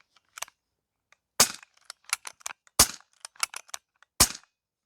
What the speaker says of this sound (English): Going to dry fire a couple times.